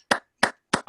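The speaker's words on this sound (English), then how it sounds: "Claps." Three crisp, evenly spaced hand claps ring out close and loud, one after another, at the end of a guided relaxation session, with no talking in between.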